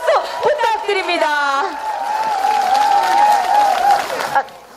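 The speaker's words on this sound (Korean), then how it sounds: "힘찬 응원의 박수, 미안함의 박수 부탁드립니다." A crowd at an outdoor political campaign rally in Mokpo claps, with whoops and a voice talking over the applause before it fades near the end.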